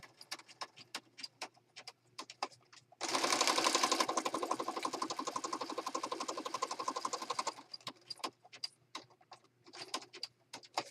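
A sewing machine stitching around fabric scraps runs in one continuous burst of fast, even needle chatter for several seconds, with scattered clicks and taps before and after.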